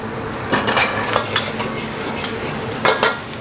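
Fried squid being stirred into fried rice in a hot pan: a steady sizzle under scraping and clinking of a spatula against the metal, with a few sharper knocks close by.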